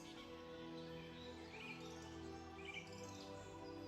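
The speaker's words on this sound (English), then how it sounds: "You hear and see the occasional sounds of birds traveling in and out." Birds calling in a shaded forest canopy, faint scattered chirps over a steady hum of insects and ambient noise, distant and quiet throughout.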